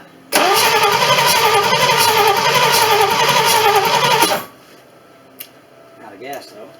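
1959 Chevrolet Bel Air engine in a rescue revival, cranking into life and running rough and loud for about four seconds before cutting out when it runs out of fuel, followed by quiet background with faint voices.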